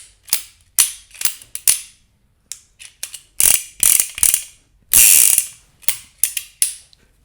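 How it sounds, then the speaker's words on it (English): Mechanism of an old cowboy single-action revolver clicking and snapping in quick bursts of sharp metallic ratchet clicks, close and loud, with short pauses between cocking actions and no talk. "Old Cowboy action revolver"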